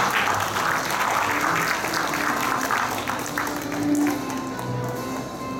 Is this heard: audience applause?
yes